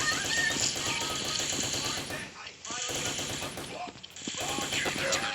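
Rapid automatic gunfire in the Special Forces Group 2 video game, dense bursts of shots with mechanical clatter, briefly pausing twice before resuming just as loud.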